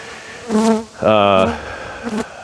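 Short bursts of honeybee buzzing at a beekeeper's hives, with harmonic drones rising and falling in two main swells and a faint third, close by.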